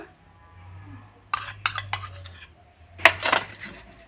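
Bottle gourd leaf paste is mixed into rice flour batter in a bowl: a few bursts of close scraping and clinking utensil strokes, separated by quiet pauses, over a faint low hum.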